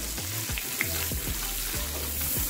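Almonds and cashews fry in melted butter with a constant soft sizzle, overlaid by repeated low rhythmic stirring scrapes from a spoon moving through the pan.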